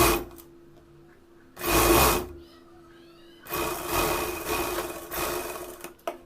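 A treadle sewing machine stitches a blouse strip in two bursts: a short whirring run, a pause, then a longer rattling stretch of stitching up close.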